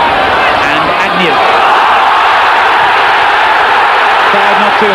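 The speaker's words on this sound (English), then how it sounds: "Crowd not too happy with the challenge" A packed football stadium crowd at Roker Park, Sunderland, roars in a loud, sustained, disgruntled wash of booing and shouting after a challenge on the pitch, with a commentator's voice faintly beneath.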